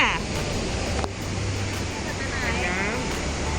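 Loud, steady roar of a waterfall running at high flow at Haew Suwat Waterfall, Khao Yai, fills the whole clip, with a voice speaking faintly over it.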